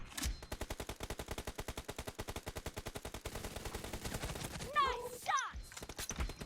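Rapid automatic gunfire from a gun in PUBG Mobile, a long close burst of evenly spaced shots, followed by a short voice and a few more shots near the end.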